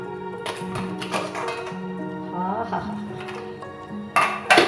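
A metal pressure cooker holding cooked bilimbi fruit is opened once its steam has gone, ending in a few sharp metallic clanks of the lid, while a person talks steadily throughout at close range.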